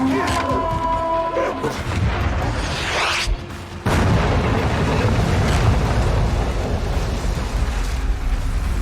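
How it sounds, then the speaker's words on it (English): Heavy cannon fire booms in the video game Dying Light 2, a dense rumbling blast after a rising whoosh, followed by a long loud roar of debris and ambience. "They put a cannon on a nearby building."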